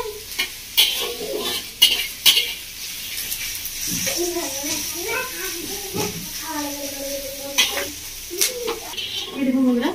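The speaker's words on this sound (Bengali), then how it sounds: "পেঁয়াজটা খুব ভালো করে ভেজে নেবো" Chopped onions fry in a pan for a village-style chicken curry with mint, a steady sizzle with stirring scrapes running underneath while someone talks over it and children can be heard nearby.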